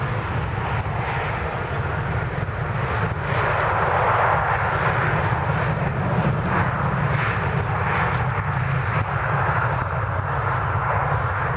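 An airplane takes off from Manchester Airport, a loud continuous engine roar with rumbling low end heard from a runway viewing park, building slightly and holding steady throughout.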